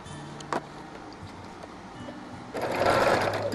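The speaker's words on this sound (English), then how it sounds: "now I can turn it back over and sew on the line between 1 and 2" A sewing machine stitches along a line during foundation paper piecing. Quiet handling and ticking come first, then a rapid, steady run of stitching starts near the end.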